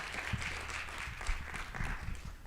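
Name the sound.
audience applause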